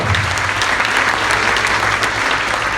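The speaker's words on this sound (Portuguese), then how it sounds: "Dá salva de palmas para Jesus, amém?" Congregation applause during a Portuguese-language church sermon, a loud, continuous roar of many hands clapping up close for nearly three seconds.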